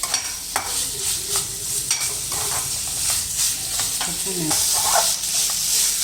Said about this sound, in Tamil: சிக்கன் நல்லாவே வெந்துருச்சு. அப்படியே பெரட்டி விட்டு பெரிய தீ வச்சு